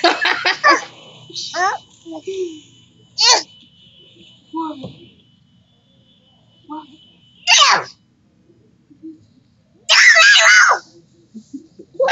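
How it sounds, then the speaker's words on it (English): A young child at a Wendy's restaurant lets out repeated short, shrill screams and squeals in bursts separated by pauses, loud and close, with an adult speaking softly in between. "What are you screaming about?"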